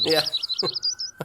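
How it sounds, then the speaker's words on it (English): A Myrtle Yellow-rumped Warbler sings a rapid run of high, sweet warbling notes, with a short spoken word from a person underneath and a faint background tone. "so the myrtle subspecies of Yellow-rumped Warbler."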